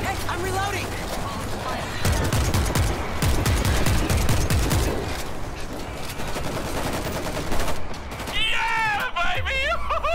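Repeated shotgun blasts from the World War Z video game in a New York tunnel, mixed with other weapons firing in close, heavy bursts while players shout and talk over the action.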